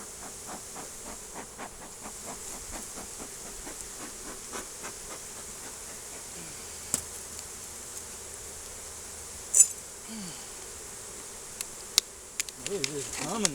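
Bees hum inside a beehive in Mississippi during an early-spring hive check, a steady, dense buzzing drone that carries on throughout, with a few faint knocks and scrapes near the end.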